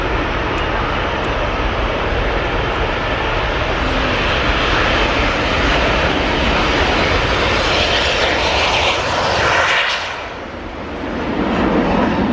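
A formation of aircraft roars past at the RIAT air show, a loud broad engine rumble sustained for about ten seconds before briefly easing and then swelling again.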